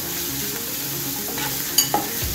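Onion, garlic and ginger sizzle steadily in a pan as they are stirred for Kerala fish pollichathu, with a couple of sharp spoon scrapes near the end.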